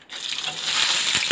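Mustard seeds, onion, garlic and lentils tempering in hot oil for sambar in a home kitchen make a brief, bright, hissing sizzle that swells quickly and stays loud and close.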